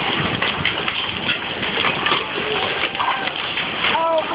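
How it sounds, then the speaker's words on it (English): Hailstones pelt the sea water at a beach during a thunderstorm, making a dense, continuous hissing patter that stays loud and steady throughout, with faint voices mixed in. "there's a hailstorm, ice storm. Look at the balls hitting the water."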